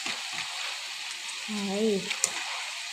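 Jackfruit chips crackle and sizzle in hot oil on their second fry, a steady broadband hiss with a brief louder burst near the end, while a voice talks over it.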